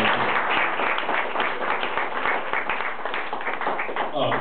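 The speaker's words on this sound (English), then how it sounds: "give yourselves a round of applause for coming out tonight" Steady applause from a comedy club audience fills the whole stretch, a dense wash of many hands clapping at once with no pause.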